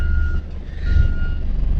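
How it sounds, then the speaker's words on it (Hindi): Truck reversing beeps sound as a steady tone over the loud low rumble of a traffic jam near Sonamarg, heard throughout at close range without speech. "मिला एक प्यारा सा ट्रैफिक जैम।"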